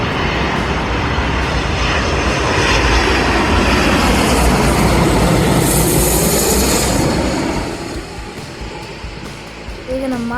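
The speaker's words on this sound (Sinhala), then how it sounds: "දැන් එන්නේ Boeing ලගේ 787 Dreamliner කියන ප්ලේන් එක" A Boeing 787 Dreamliner jet passing close by near Katunayake airport, its engines a loud roaring rush that swells and then fades over several seconds, with a faint voice near the end.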